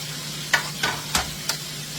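Shrimp fry in a hot pan of oil at around 375 degrees, a steady low sizzle broken by four sharp spitting pops spaced roughly half a second apart, close and moderately loud with no voices.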